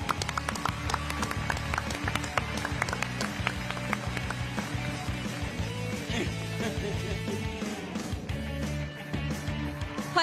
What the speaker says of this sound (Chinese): 让我们全场响起最热烈的掌声